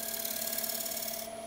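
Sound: skew chisel shear scraping a bead on a wood lathe bowl

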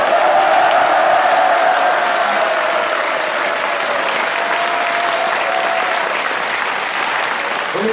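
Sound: applause from an audience

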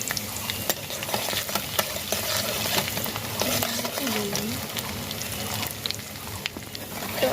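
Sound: garlic frying in oil on the stove

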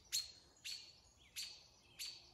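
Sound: robins calling angrily at an owl

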